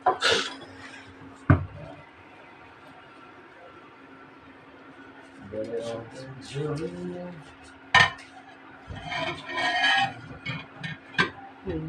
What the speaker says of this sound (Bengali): ওই বড় প্লেটটা বের করুন।